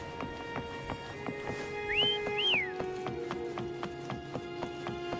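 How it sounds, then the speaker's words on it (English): Two rising two-note whistles call a mount in the video game Wuthering Waves, heard clearly over steady game music with light tapping. "Why don't you call Foam over? Try whistling."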